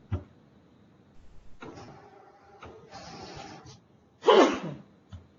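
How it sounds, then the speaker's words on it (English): A single sharp sneeze bursts out in a quiet classroom near the end, preceded by faint rustling and shuffling. "No sneezing in class."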